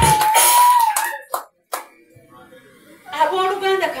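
A church congregation claps hands in praise during a sermon. Bursts of clapping come between and under a preacher's voice, with louder stretches at the start and end.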